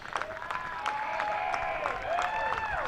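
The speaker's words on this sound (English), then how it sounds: "Getting all the applause from the hill." Spectators on a grassy hill at an A Grade grand final cricket match applauding a shot, scattered clapping and cheers heard moderately far off with a few sharp claps.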